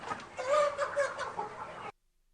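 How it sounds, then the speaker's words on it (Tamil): Native country chicken, a 70-day-old bird raised for meat, clucking in a steady run of short, close calls with no talk over it. "இந்த கோழி 70 நாள் ஆன கோழி."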